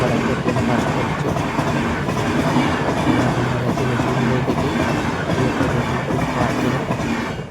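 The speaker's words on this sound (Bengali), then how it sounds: "এখন দাঁড়িয়ে আছে এই যে সুপার একটা ট্রেন পাস করছে।" A passenger train rolls past a railway level crossing gate beside a road, its loud, steady rumble and rhythmic wheel clatter close by and continuous, with faint squeals mixed in.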